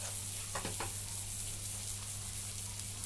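Onion mixture for bread pakora filling sautéing in a pan, giving a steady broadband sizzle with a low hum beneath and a couple of brief stirring scrapes early on, with no voices.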